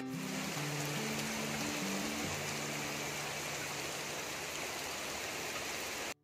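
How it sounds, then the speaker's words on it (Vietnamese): Steady rain falling outdoors at a fishing spot in Saigon, a dense continuous hiss throughout, with a low tonal hum audible during the opening seconds. "Mưa đều quá trời mưa luôn."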